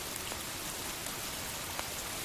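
Steady rain falling, a soft continuous hiss with scattered faint droplet ticks, fairly quiet and even throughout with no voices.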